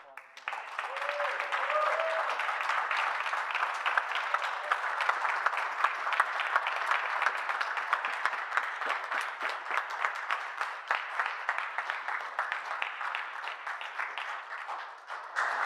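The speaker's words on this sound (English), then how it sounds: "Let's give them a round of applause." Sustained audience applause at a political event for the PRO Act, dense and steady clapping filling the whole stretch at fairly even loudness, with a few faint voices mixed in.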